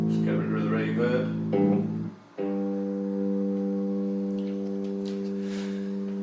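Plucked notes from a Vox White Shadow electric bass boom through an amplifier with reverb off, a few sustained low tones ringing on after a short stretch of chatter.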